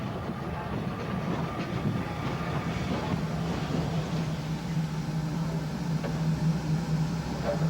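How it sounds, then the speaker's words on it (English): A train on the Kent and East Sussex line is hauled back into Robertsbridge station by an E1 steam locomotive, giving a steady, moderately loud rail rumble with faint clatter throughout. "the main train was drawn back into the station by the E1"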